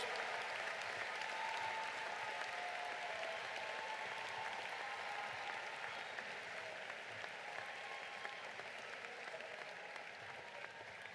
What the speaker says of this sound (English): a big round of applause for your families, friends, everyone who supported you